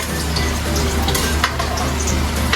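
Garlic being stirred and sautéed in a hot pan, a loud continuous sizzle with scraping strokes of the utensil and occasional sharper pops, heard close up with no talking.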